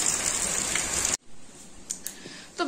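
Steady rain from Cyclone Remal hisses loudly for about a second, then cuts to a quieter outdoor scene with only a few faint, scattered drips and taps.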